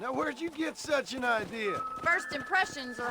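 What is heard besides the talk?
No everyday noises stand out.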